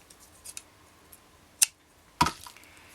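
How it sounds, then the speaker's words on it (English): Scissors snipping beading thread during seed-bead herringbone stitching: two crisp, sharp snips about half a second apart with faint handling ticks around them, close and quiet otherwise. "I think that's a good place to cut off my thread."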